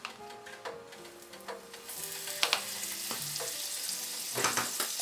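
Butter melting and sizzling on a pan heated to medium, a soft, steady frying hiss that swells partway through, with a few faint clicks and light metallic taps close by.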